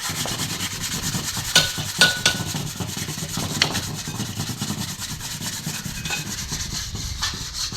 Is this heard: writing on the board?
no